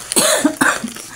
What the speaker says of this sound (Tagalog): may ubo pa ako.